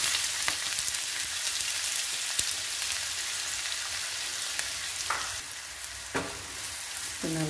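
Finely chopped onions sautéing in a pan for a green pea and potato masala curry, a steady close hiss of frying with a few spatula taps and scrapes toward the end, no one speaking.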